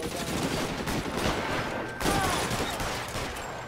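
Continuous gunfire from BAR automatic rifles in the game L.A. Noire: dense, overlapping bursts of rapid shots, loud and steady for several seconds, with no voices over it.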